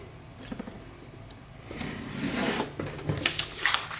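Paper tags for a junk journal being trimmed, a soft rasping cut that swells in the middle and ends in a few quick snips, close and fairly quiet with no talking.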